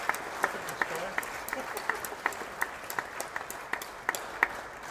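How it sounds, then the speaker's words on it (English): An audience at a football awards ceremony applauds, a steady round of clapping with sharp individual claps standing out over a soft crowd wash. "I'd just like to take a moment to offer them and the club secretaries all around a big round of applause."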